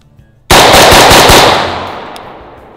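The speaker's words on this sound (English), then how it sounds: "I'm just gonna fire a quick rapid string to kind of demonstrate that." Rifle with a muzzle brake fired in a quick rapid string at an outdoor range, a loud close burst of several sharp cracks in about a second that rings out into a long fading echo.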